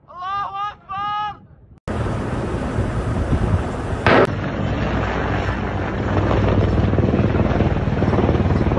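An airstrike explosion in Palestine strikes with a sudden loud blast, followed by a sharp crack and a sustained rumbling roar, after a few seconds of someone shouting.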